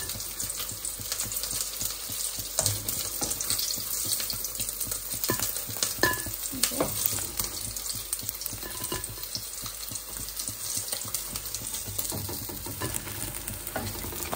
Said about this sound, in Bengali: এখন এই পাশটা আরেকটু ভাজা হয়ে গেলে উঠে ফেলবো, মাছগুলো ভাজি করার শেষ